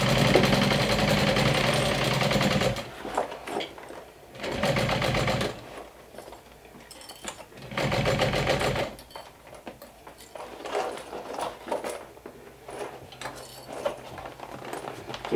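A sewing machine stitches a saddle-style crossbody bag in several short runs, each a bright mechanical whir that starts and stops, with quieter handling noise and shuffling filling the gaps between them.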